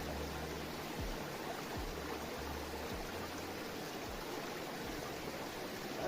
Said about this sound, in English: it's a spring, not a river